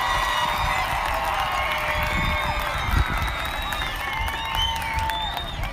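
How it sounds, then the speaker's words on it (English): A large crowd of graduates and families at a Paloma Valley High School graduation applauds and cheers steadily, with a dense wash of clapping and overlapping shouts and whistles that stays loud throughout. "Find your family and give them a surrounding thank you and round of applause."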